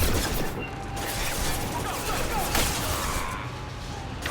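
Dense gunfire in the video game Mass Effect 2, a continuous rattling barrage with sharper bursts, loud and close, with voices talking over the shooting.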